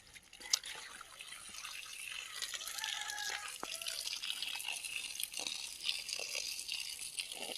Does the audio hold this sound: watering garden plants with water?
yes